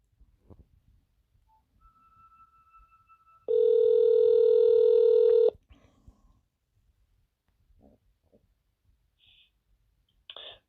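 A telephone hold tone plays as a loud steady tone for about two seconds, with faint quieter tones and clicks before and after it.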